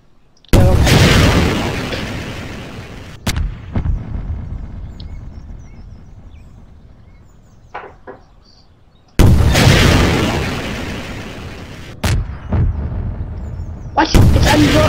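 Rockets exploding in the video game Garry's Mod, two loud close booms several seconds apart, each followed by a decaying rumble and smaller pops.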